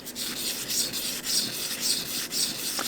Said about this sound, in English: This is a 320 grit. And carefully, figure eights, sand that top down.